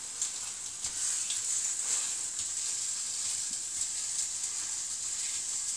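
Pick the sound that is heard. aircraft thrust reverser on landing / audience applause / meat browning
meat browning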